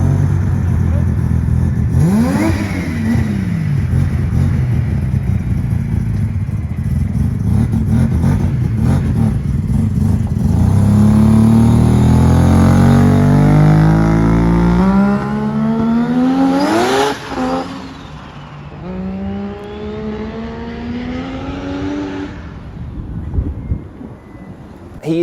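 A Mazda 626 fitted with a rotary engine, running a little rough, revs loudly and repeatedly close by, its engine note rising and falling in sweeping climbs over a steady idle.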